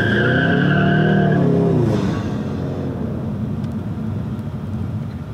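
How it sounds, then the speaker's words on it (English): Ecoboost Mustang launching off the transmission brake from its two-step rev limit: a loud, close engine roar with rising harmonics and a brief tire squeal, easing into a steadier drone as the car pulls away. "once you're ready to launch the car, you're simply just going to back off on the brake pedal and the car will launch forward"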